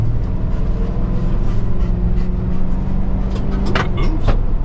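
A Ford Crown Victoria P71 police interceptor drives along with a steady, low rumbling engine hum, heard from inside the car at moderate loudness.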